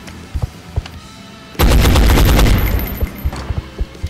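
Light machine gun fire in the video game XCOM Enemy Unknown, a single loud sustained burst of rapid booming shots trailing off, surrounded by quieter scattered clicks and thuds, no talking.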